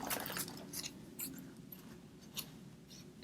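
Scissors cutting off a ribbon end on a Christmas bow: a few soft, close snips and crisp rustles over a low steady hum, faint and brief.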